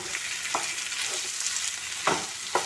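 Chicken gizzard roast fries in a pan under a constant loud sizzle, while a spoon stirs it with a few soft scraping knocks spaced irregularly.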